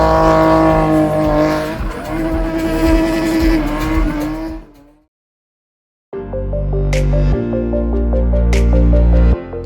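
A BMW doing a tire-smoking burnout, engine roaring with loud tire squeal, then cutting to silence before a second burst of revving and screeching rubber, close and loud.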